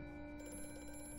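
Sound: telephone ringing in the video game Amnesia

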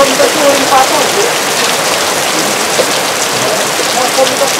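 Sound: heavy rain at a waterfall

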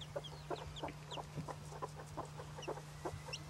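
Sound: bantam chicken and chick clucking

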